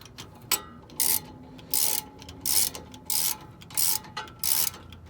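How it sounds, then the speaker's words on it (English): A ratchet loosens a brake caliper bolt on a 2010 Dodge Ram 1500 with a 4.7 V8, giving seven or eight evenly spaced bursts of quick metallic clicking, close and clear with short pauses between strokes. "As you take off the brake caliper bolt, should come out pretty easily."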